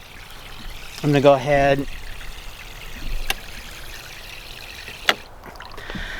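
A garden hose keeps water flowing in a soft, steady trickle, close and fairly quiet, with a brief spoken remark and a couple of sharp knocks along the way.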